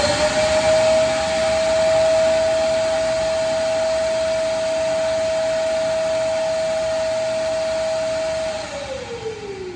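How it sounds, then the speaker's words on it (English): Vacuum forming machine's vacuum pump runs as a steady, loud whine with a sustained tone, then winds down as it switches off near the end. "once the vacuum turns off, the process is completed"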